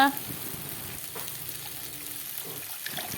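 Spices frying in a pan, a quiet steady hiss and light crackle with a few faint stirring taps, close and low in level with no talk.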